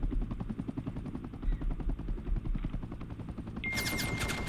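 Rapid, evenly spaced shots from a gun firing HE rounds at a shield in the War Tycoon video game, a steady moderate rattle that ends in a bright ringing tone.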